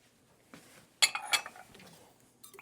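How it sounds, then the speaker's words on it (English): Eggs and melted butter are whisked into buttermilk in a bowl: a few sharp metallic clinks of a whisk against the bowl, clustered near the middle of a short, otherwise quiet stretch. "We'll whisk that together."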